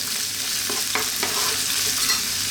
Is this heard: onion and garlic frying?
yes